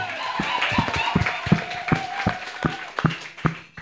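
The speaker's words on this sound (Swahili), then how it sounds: "Pigia Yesu makofi mazuri." Steady rhythmic clapping from a church congregation, sharp claps landing about twice a second, with voices and music running underneath.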